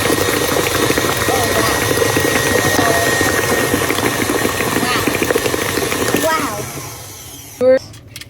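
An electric mixer whirs steadily at high speed through cheesecake batter with sour cream, a dense continuous motor drone that drops away near the end, followed by a short clink.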